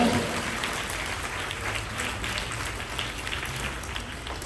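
A school congregation at a Catholic Mass at Collège Sainte Famille de N'djili applauds loudly and steadily, with sustained clapping and some voices across the whole stretch.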